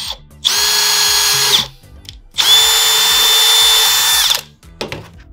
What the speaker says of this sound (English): I like to start with a smaller bit, get a pilot hole, and then we'll step up to the half inch drill bit.